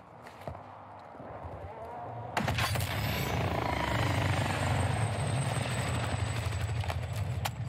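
Helicopter in the Warzone 2 (Modern Warfare 2) video game, its rotor and engine droning loud and close after a sudden start, steady for several seconds with small clicks and footstep-like taps over it.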